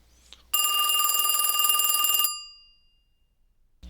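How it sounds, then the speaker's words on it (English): Old-style telephone bell ringing in one loud, bright, continuous burst of about two seconds, then fading away, heard alone in a quiet room. "It took a moment for Izuku to realize the phone was ringing."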